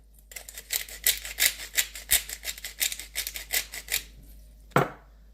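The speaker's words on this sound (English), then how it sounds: "Too lazy to do it by hand, so I'm just going to shake it around." Seasoned food is tossed with olive oil, salt and pepper inside a container, giving a quick series of rhythmic rattling shakes. A single louder knock follows after a short pause.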